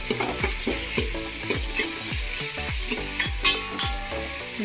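Onions with a little salt fry in a pan for chicken biryani, sizzling steadily while a spoon stirs them in regular, repeated strokes, close and clear with no talk.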